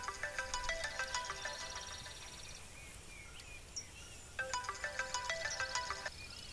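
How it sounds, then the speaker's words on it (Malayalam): A mobile phone rings with a synthetic electronic melody, two bursts of repeated tonal phrases separated by a short pause, close and clear in a quiet indoor setting. "Sir phone."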